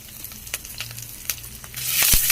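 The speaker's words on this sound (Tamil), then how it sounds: "இதை நல்லா வதக்கிக்கலாம்." Soft sizzling and frying of chopped shallots, curry leaves and green chillies in a pan, with a few scraping stirs, the hiss growing louder and brighter toward the end.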